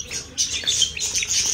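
High, bright chirps and tweets from birds feeding alongside a peacock and a chick, short repeated calls in quick clusters, fairly close, with no talking.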